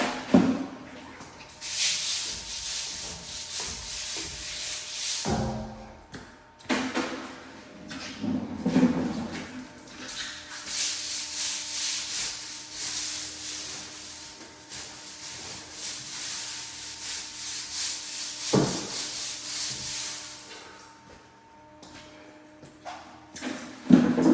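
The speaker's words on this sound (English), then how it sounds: "This is a commercial broom, hard bristle." A hard-bristle commercial broom scrubs black mold off a surface with concentrated bleach, giving long rasping strokes in repeated bursts with brief pauses and a few knocks between them; no talk.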